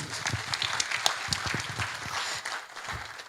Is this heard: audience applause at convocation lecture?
yes